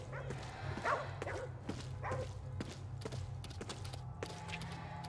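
In the video game Ghostwire: Tokyo, a dog lets out several quiet yips and barks at irregular intervals, with soft footstep-like taps over a low continuous game ambience.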